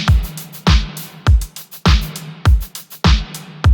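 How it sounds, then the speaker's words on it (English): A clap drum sample layered with kick and snare hits in a steady repeating pattern, six sharp loud transients about every 0.6 seconds, each with a short decaying tail, played alone without talking. "Again, this is a clap."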